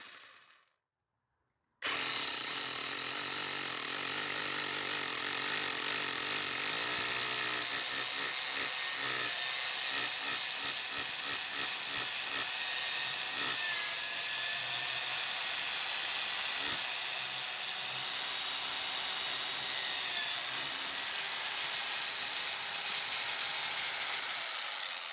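A power drill boring into stone for a garden stone decor, a loud continuous whir that starts abruptly after a short quiet pause, with rapid rhythmic grinding chatter as the bit bites, sustained and close.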